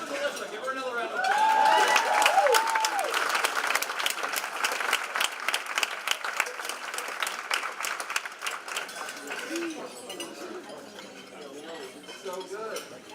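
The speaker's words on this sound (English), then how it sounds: "Give her another round of applause." Audience applause fills a gala hall for several seconds, a dense steady patter of many hands with faint clinks of glasses and cutlery, gradually thinning out near the end as voices carry underneath.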